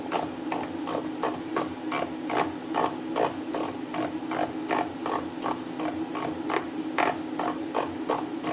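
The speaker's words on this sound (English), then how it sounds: "Tired of cranking that hand wheel." Hand wheel being cranked on a 9-cylinder radial engine, giving a steady run of regular mechanical clicks and creaks, about two per second, over a constant low hum, close and fairly even in loudness with no talking.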